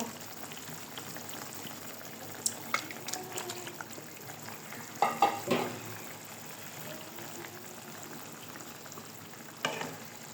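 Sautéed bhetki fish going into a pan of cooking greens with potatoes, a low bubbling fry with a few sharp clatters and scrapes from a utensil near the middle and end.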